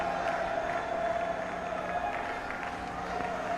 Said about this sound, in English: Anil Kumble joining in the applause.